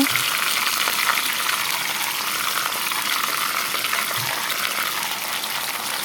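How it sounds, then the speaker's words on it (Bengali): Green beans frying in a wok, giving a loud, steady, dense sizzle that holds evenly throughout, with faint stirring underneath; no talking. "কড়াইয়ের মধ্যে এখন সিমগুলো ঢেলে দেবো দেখতে থাকো"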